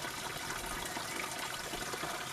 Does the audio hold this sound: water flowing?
yes